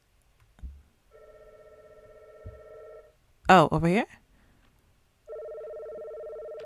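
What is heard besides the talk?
telephone ringing in the video game Before I Forget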